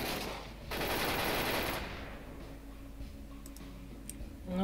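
A machine gun in the video game 7.62 Hard Life rips off one loud, dense burst of rapid fire for about a second, then drops away to quieter scattered clicks and faint distant shots.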